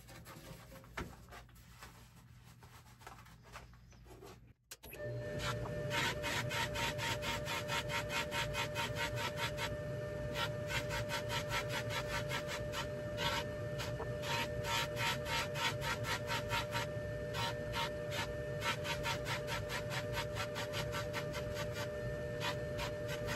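Silver piece pressed against a spinning buffing wheel for a final mirror polish, a steady, loud whirring rub that starts abruptly after a quieter opening and runs on continuously with a constant motor tone.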